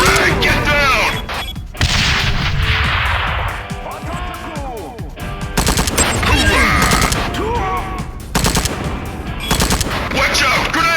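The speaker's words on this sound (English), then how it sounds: "Watch out! Grenade!" Gunfire and grenade blasts erupt in Tom Clancy's Ghost Recon on the Wii, sharp bursts and booms repeating irregularly in loud clusters with brief gaps, while shouted voices break through between the shots.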